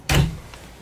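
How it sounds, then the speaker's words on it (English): A drawer sliding open on a track in the kitchen of a 2020 Leisure Travel Vans motorhome at an RV show, one short firm thud and rolling slide up close, with a faint second click after. "Drawer."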